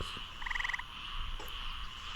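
Frogs croak in a rapid pulsed trill with a steady chorus of insects and night ambience behind it, faint and at some distance.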